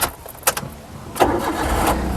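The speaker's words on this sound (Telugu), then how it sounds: "ఒకసారి ఈ కారు సింగిల్ సెల్ఫ్లో స్టార్ట్ అవుతుందా లేదా అన్నది చూపిస్తున్నాను" A 2021 Maruti Suzuki Alto LXI starting on a single crank, with a couple of short starter clicks and bursts before the engine catches and settles into a steady idle close by.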